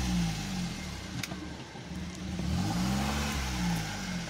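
A car's engine hums and revs in low gear as it reverses on a snowy Himalayan mountain road, with rising and falling engine tones close by.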